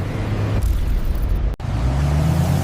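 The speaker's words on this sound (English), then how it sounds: "7 tons of armored steel are now accelerating directly toward the magnetic barrier" A 7-ton armored truck under remote control accelerating toward a magnetic barrier, its heavy engine rumbling loud and close with a deep, steady drone and a brief dropout midway.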